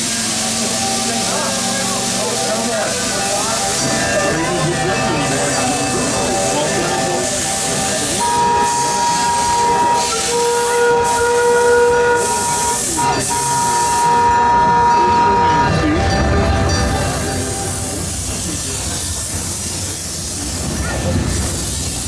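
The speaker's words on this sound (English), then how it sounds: "it wasn't too long before the sound of number 2's whistle was heard" Loud, steady steam hiss and rumble from a small steam locomotive hauling an excursion train at a steam museum, with a long sustained whistle tone sounding through the middle.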